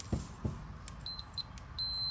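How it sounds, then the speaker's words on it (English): A couple of soft taps, then short high electronic beeps from a multimeter continuity test that end in a steady sustained tone, quiet and close. "this is a continuity test. You hear the beep."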